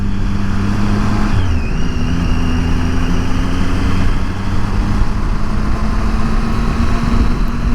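A motorcycle riding along the road, its engine holding a steady drone with wind rush throughout and a slight shift in pitch early on, loud and close with no talking.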